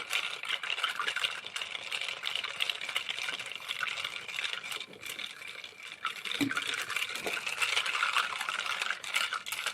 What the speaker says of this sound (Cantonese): 倒晒啲咖啡液落去，跟住快速攪拌